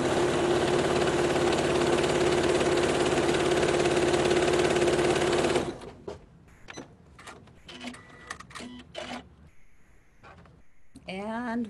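A sewing machine runs a long, continuous, close whirring stitch along a quilt seam, then stops abruptly; a person then talks over scattered handling noises.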